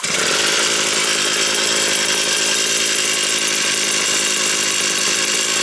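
An Alpina ABR 42 D petrol brush cutter, its gearbox recently replaced and clutch removed, runs steadily at low throttle with a dense, buzzing two-stroke drone, loud and close, continuous throughout with no voices.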